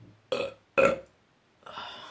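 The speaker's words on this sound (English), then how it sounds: "if you guys don't know how to burp" Two short, loud burps in quick succession, close to the listener, followed by a softer, breathier third one after a brief pause.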